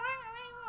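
A voice imitates a cat meowing, one drawn-out, wavering nasal meow held close and clear with no other sound.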